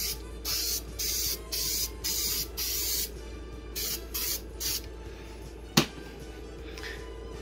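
3M Super 77 spray adhesive hissing from an aerosol can in a series of short, even bursts with brief gaps, fairly close, followed by a single sharp knock.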